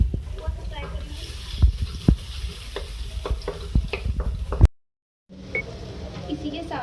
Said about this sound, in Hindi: अदर मैं प्याज चॉप ऐड कर रही हूँ, मीडियम साइज की। चल रही है इसमें थोड़ा सा फ्राई करेंगे।